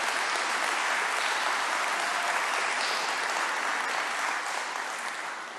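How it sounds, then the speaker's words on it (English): A church congregation applauding, a broad even wash of many hands clapping together, sustained and fairly distant, gradually easing off toward the end. "As we were applauding the good Lord Jesus"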